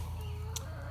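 Chickens clucking in a pen on a farm, faint and distant over a steady low background hum, with soft scattered calls and one brief sharper squawk.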